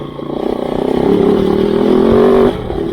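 A Kove 450 Rally motorcycle riding at night, its engine droning steadily and rising slightly in pitch before easing off near the end, loud and close with a rough, buzzing tone and no speech.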